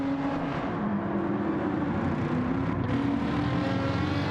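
Race car engines drone in Gran Turismo 7 during a BTCC replica race at Blue Moon Bay Infield A, with an AMG and a BMW battling. The sound is a steady, continuous engine roar with no talking.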